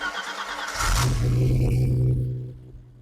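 A restored BMW M20 engine in a 325iS cranks briefly and catches, giving a loud close rumble that settles into a steady idle before fading.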